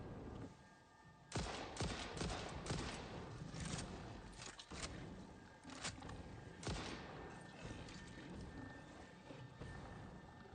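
Repeated gunfire bursts from hostile attackers in the factory-building video game Satisfactory, loud broadband cracks and rattling volleys over several seconds with steady game ambience between shots.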